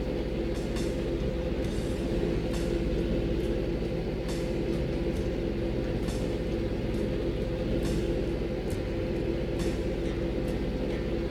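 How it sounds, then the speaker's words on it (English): A tram rolls along in Vampire: The Masquerade - Bloodlines with a continuous loud rumble and drone. Faint, evenly spaced clicks of the wheels run through it, with no talk over it. "We're taking this tram up to another area of the park."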